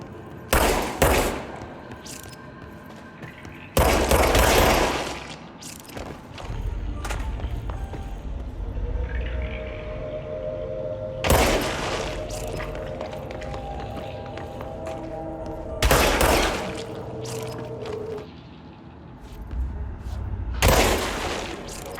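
Gunfire from the video game Control comes in several loud, sharp bursts spaced out over about twenty seconds, separated by quieter stretches of ambient game sound with footsteps and thuds.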